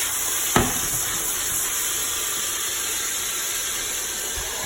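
Beef ragu meat searing in a hot pan gives a steady, even sizzle throughout, with one sharp clink of a utensil near the start and no talking.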